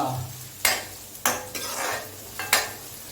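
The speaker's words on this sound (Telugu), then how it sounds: "దీన్ని కలపాలి" Chicken curry is stirred in a pan over a soft sizzle, with a few sharp scrapes and knocks of the spoon against the pan, close and alone.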